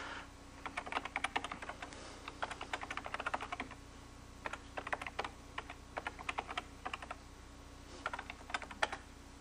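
Computer keyboard typing in steady bursts of quick, light clicks with short pauses between runs, close and fairly quiet over a low steady hum.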